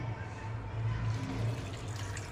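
Water poured into a cooking pot holding chopped tomatoes, carrots, onion and coriander, a steady splashing fill running the whole time at moderate level, with no one talking.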